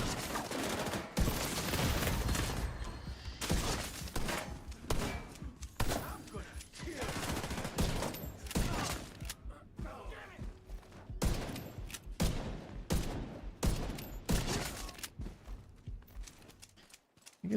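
Pistol shots in The Division 2 video game, a fast run of sharp repeated shots in quick bursts, close and loud, with brief gaps and game sounds between them.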